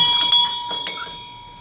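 A single bell hanging on a memorial peace sculpture built from duct work, with doves and rose hips, rings out in a few bright metallic strikes up close, its tone ringing on and fading away with no voices.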